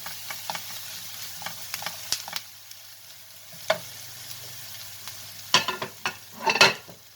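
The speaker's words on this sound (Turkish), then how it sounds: "tereyağımızın içerisinde önce soğanlarımızı közeledik. Sonra yağ biberlerimizi koyduk" Onions and long green peppers sautéing in butter in a pan while being stirred, with faint sizzling, intermittent scraping and clattering stirs, and louder clustered clinks toward the end, close by with no talking.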